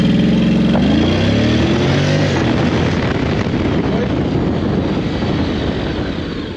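A Honda X-ADV 750 motorcycle launches hard from a standstill, its engine revving up in a rising loud roar that then settles into a steady drone as it pulls away.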